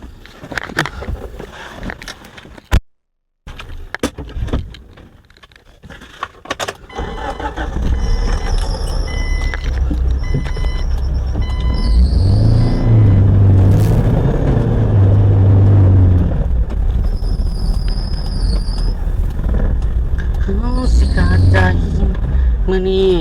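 Ride inside a car, engine and road rumble building to a loud steady drone with brief high whines, after a quieter start with a door-like thump and a moment of silence.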